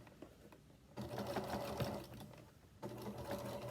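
Sewing machine stitching the side seam of a fabric bowl cozy through several fabric layers, a quiet close whirring run in two bursts separated by a brief pause.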